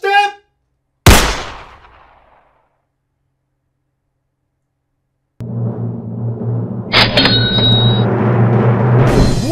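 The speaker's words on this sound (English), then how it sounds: "So we want that little special effect where you can hear the gun go off" A single loud gunshot sound effect cracks near the start and decays into silence, then a low droning bed and brighter noise rise later.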